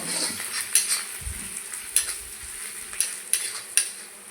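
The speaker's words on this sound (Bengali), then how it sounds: "ভালো করে মিলিয়ে নেব" Ground turmeric, cumin and chilli powder are stirred together in a pan while cooking a pointed gourd and fish dish, with repeated metal scrapes and clinks over a faint sizzle, close up and without voices.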